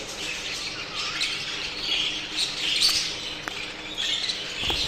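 A flock of show-type jumbo budgerigars chirps and chatters continuously, their high warbling calls overlapping nearby with occasional sharper squawks.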